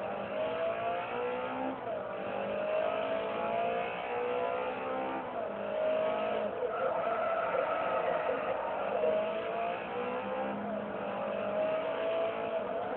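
A car's engine revs hard while drifting in Forza Motorsport 3, with stock horsepower, racing transmission, racing suspension, body kit and tire pressure lowered to 25; loud, sustained engine whine rises and falls with gear changes and throttle, with no talk.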